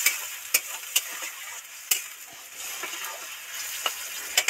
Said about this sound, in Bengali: মশলাগুলো ভাজা ভাজা হয়ে গেছে, তেল ছেড়ে গেছে, এবার একটু জল দিয়ে দিচ্ছি।